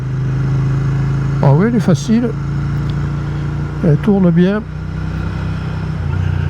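A Royal Enfield Interceptor 650 motorcycle carries a steady mid-pitched engine drone through a run of corners, recorded close, with a rider's voice talking over it twice.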